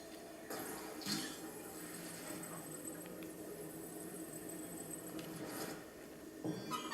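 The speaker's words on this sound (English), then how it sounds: "it's still raining in my game" Steady rain falls in The Legend of Zelda: Breath of the Wild as a soft, constant hiss, with a few brighter splashy patters now and then, fairly quiet throughout.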